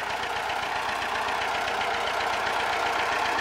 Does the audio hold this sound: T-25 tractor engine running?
yes